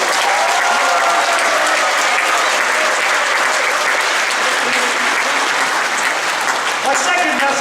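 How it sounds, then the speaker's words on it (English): Loud, sustained audience applause fills a Diwali celebration hall in North Carolina, a dense wash of many hands clapping steadily from start to finish. "I want all of us to join together with a thunderous round of applause"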